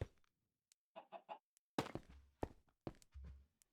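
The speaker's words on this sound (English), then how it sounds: "The chicken is laughing at me." Chickens cluck in a Minecraft-style block game, a few quick clucking bursts early on, then scattered sharp thunks and blocky placing sounds close by.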